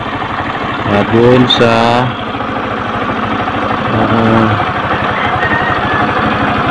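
A Kawasaki LS 135 motorcycle engine idles steadily while warming up, a close, even putter running throughout beneath someone talking.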